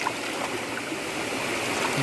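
Natural stream water in a Konkan village forest flows steadily as hands and feet are washed in it, a continuous close rushing wash with no talking.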